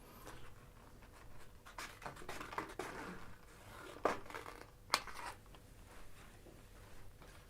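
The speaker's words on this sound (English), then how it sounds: "whilst I cut these strips out for you" Scissors snip through strips, probably of fragrance testing paper, in a quiet close-up: soft irregular cuts and paper rustling, with a few sharper snips standing out.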